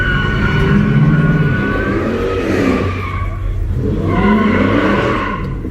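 Car tires squeal in long, loud wails as a single wheel spins at a car meet. The engine revs underneath, and two squealing bursts rise and fall in sequence. No voices are heard.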